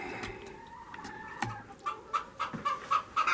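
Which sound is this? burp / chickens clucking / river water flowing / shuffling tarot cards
chickens clucking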